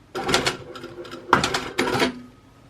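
A sewing machine backstitches a hair bow in short bursts, three or four quick close whirring runs of stitching separated by brief pauses.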